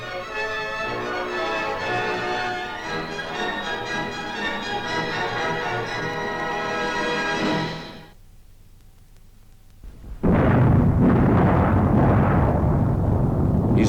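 A Soviet peaceful-purpose nuclear explosion erupts as a sudden loud broadband roar after a stretch of orchestral music and a brief quiet gap, rumbling on steadily to the end.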